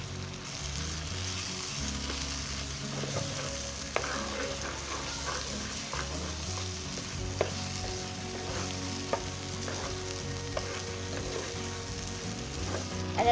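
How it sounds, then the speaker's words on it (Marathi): Okra masala frying and being stirred in hot oil with turmeric, chili powder and salt, a steady close sizzle with scattered clinks and scrapes of a spoon against the pan, no voices. "तेलामध्ये मसाला पण आहे ना जरा चांगला फिरवून घ्यायचा, असा मस्त तळसून घ्यायचा"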